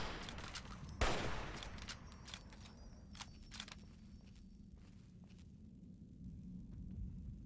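Enemy gunfire in Fallout New Vegas cracks out in a few sharp shots, one loud and close near the start, followed by scattered fainter pops over a quiet rumbling background.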